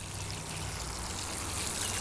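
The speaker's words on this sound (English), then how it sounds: "I like to flood it and then come back to it and flood it a second time to make sure that all the dirt gets good and wet" Water poured from above floods the soil in plant pots, a steady soft splashing and trickling that runs continuously and evenly throughout with no voices.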